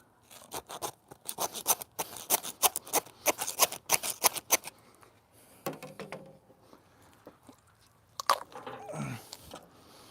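A deer carcass spine is cut through with rapid, crunchy snipping and cracking bursts, close and loud, then a pause and a few more scraping crunches.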